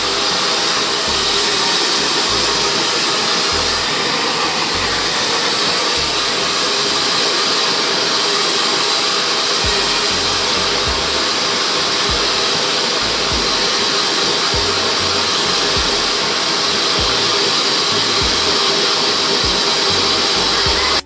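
A hair blower drying a girl's hair runs as a steady, loud, continuous whooshing roar close by, unbroken for the full length with no talking.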